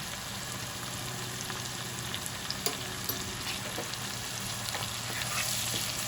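Ginger and garlic paste sautés in a pan as a continuous low sizzle and crackle, with a few faint scattered stirring clicks, moderately quiet and even throughout, no voices.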